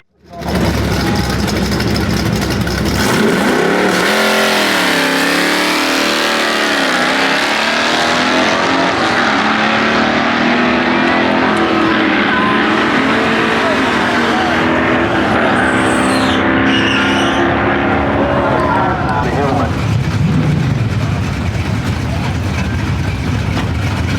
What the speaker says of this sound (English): Let's get some racing. Starting out with 13-0 index class, which is our class.